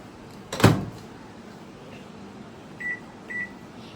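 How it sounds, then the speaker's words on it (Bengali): A microwave oven baking hilsa fish: a sharp thud from the door shutting, then two short, clear electronic beeps a half-second apart over a faint steady hum. "আমি আরেকবার বসিয়ে দিচ্ছি মাইক্রোওভেনের ভেতরে"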